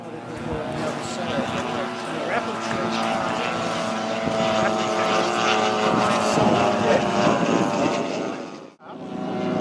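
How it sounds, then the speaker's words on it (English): A model L-39 jet roars overhead at a model aircraft fly-in, a sustained loud engine whine that holds for several seconds before briefly cutting out near the end, with people talking underneath. "there's an L-39 jet up in the checker, and he comes over every so often, does his thing."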